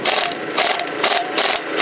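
A power tool loosens the bolts on a car in rapid rattling, ratcheting bursts, four or five loud close pulses in under two seconds.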